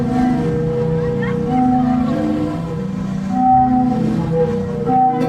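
Deep, breathy organ-like tones from the Zadar Sea Organ drift and overlap in slow swells, as waves push air through its pipes, with notes rising and fading steadily.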